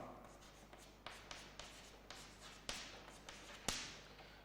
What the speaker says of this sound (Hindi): अब सिमिलरली मैं एक और लिखता हूं